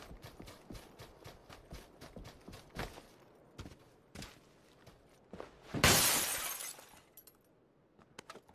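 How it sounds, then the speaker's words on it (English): Glass shatters in a multiplayer shooter video game, a loud bright crash lasting about a second amid scattered footsteps and gameplay clatter. "Who's that breaking glass then?"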